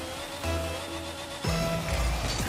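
Formula 1 car engine in an F1 racing video game, a steady tonal whine that rises sharply near the midpoint and stays loud, with no talking.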